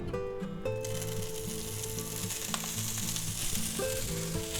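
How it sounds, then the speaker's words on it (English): Broccoli dropped into a hot pan of oil for a spicy chicken and mushroom stir fry, a loud continuous sizzle that bursts in at once and keeps crackling steadily over faint background music. "our pan seems hot enough, so we're just going to go ahead and add our broccoli"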